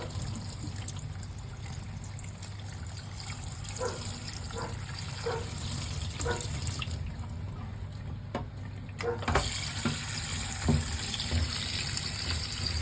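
Water streams out through the holes of a dishwasher spray arm, a steady trickling, splashing flow that runs continuously and fairly close, with no talk over it.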